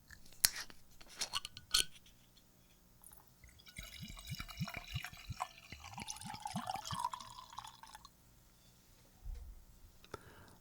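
Sake from Yamagata poured into a glass: a short run of soft liquid gurgles and drips, close and quiet, with a few small clinks of glass around it and no talking.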